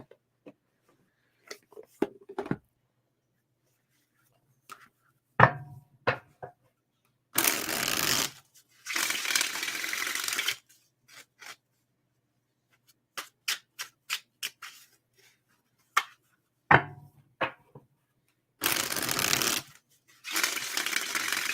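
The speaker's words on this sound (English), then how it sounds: "Let me do one more shuffle" A tarot deck being shuffled in repeated bursts of riffling and sliding cards, with quiet taps and card snaps between the longer shuffles, close and fairly loud against otherwise silent surroundings.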